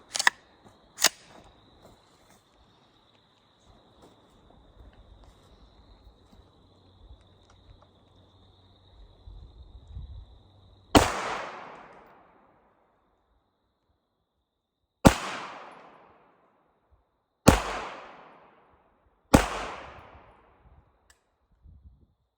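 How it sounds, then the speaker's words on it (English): A Spikes Tactical 9mm rifle with a replaced trigger fires several sharp, loud shots outdoors, spaced a few seconds apart, each followed by a short decaying echo, after a couple of small clicks and a quiet stretch. "looks like it actually fired just fine, except for the last round actually jammed in there"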